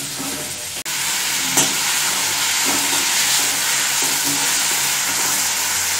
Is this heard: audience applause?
no